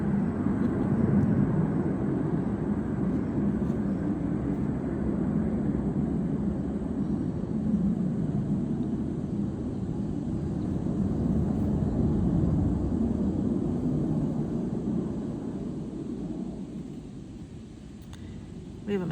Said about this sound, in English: Ooh, there's a plane overhead.